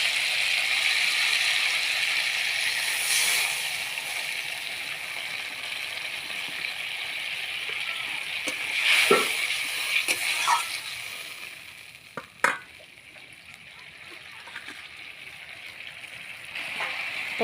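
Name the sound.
water added to sizzling fish curry with papaya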